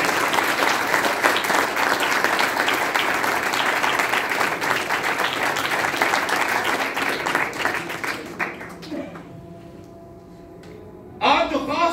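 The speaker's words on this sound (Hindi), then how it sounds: "आप तालियां बजा सकते हैं इस बात।" A church congregation bursts into loud, sustained applause that carries for several seconds, then thins out and stops, leaving near silence before a brief sound returns at the end.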